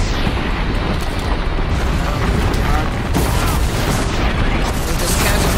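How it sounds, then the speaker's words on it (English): Cannons boom in Horizon Zero Dawn The Frozen Wilds, with a dense, loud barrage of blasts and rumbling mechanical noise running continuously across the whole stretch. "There's cannons in the back."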